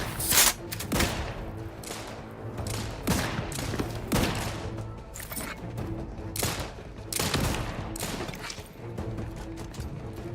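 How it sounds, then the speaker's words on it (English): Heavy shotgun blasts from The Outer Worlds video game boom out one at a time over a low ambient game background, several spaced reports with gaps between them, moderately loud. "Love the shotgun."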